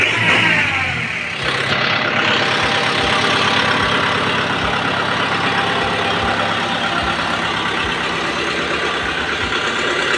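A 2023 Kubota M6040 tractor engine idles close by, a loud, steady, even diesel rumble that runs unbroken without any talking.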